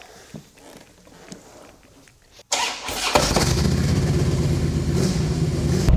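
A Harley-Davidson Road King motorcycle engine cranks and fires after a few quiet seconds of shuffling, then settles into a loud, steady, close rumble.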